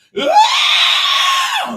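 A single loud, sustained scream of a person, close and piercing, rising sharply and holding steady for over a second before cutting off, with nothing else audible.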